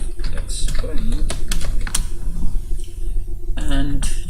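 Rapid bursts of typing on a computer keyboard, close and crisp, with irregular clusters of key clicks and short pauses, while a voice talks over part of it.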